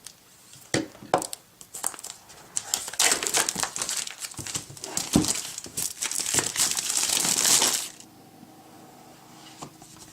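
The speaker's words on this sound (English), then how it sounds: "I'm just going to use a razor blade to cut the plastic off." Razor blade slicing and peeling the plastic wrap off a MacBook Air 11.6 box, giving close, loud bursts of crinkling and tearing plastic for several seconds before the sound drops away.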